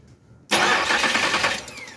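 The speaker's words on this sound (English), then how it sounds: "if we put our jumper right here, it actually cranks over just fine" Chevrolet Impala engine cranking over on a starter jumper, a sudden close burst of starter churn and engine turnover after a brief quiet start, loud and sustained to the end.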